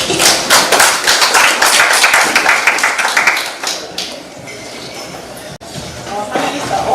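An audience at a public panel dialogue on violence against women in politics in Kenya claps for a panelist. The dense, loud applause lasts a few seconds, then fades into quieter room noise.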